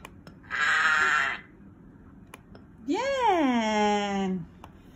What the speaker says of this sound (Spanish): Oveja.